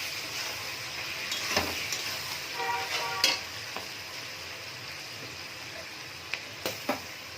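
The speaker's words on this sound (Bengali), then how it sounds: "কিছুক্ষণ পর ঢাকনা খুলে আবারও একটু ভালো করে নাড়াচাড়া করে নেব।" Chili chicken stirred in a hot pan, a steady sizzle with several sharp spatula scrapes and taps against the pan, close up and without talk.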